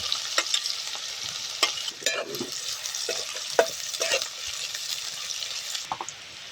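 Mustard seeds, cumin, asafoetida and finely chopped onion sizzle in hot oil, a steady close frying hiss with intermittent scraping and clinking stirring strokes, no talking.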